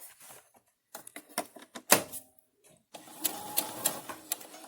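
Sewing machine back stitching a fabric face mask with a pipe cleaner sewn in, heard as short mechanical bursts of stitching separated by pauses, close and fairly quiet.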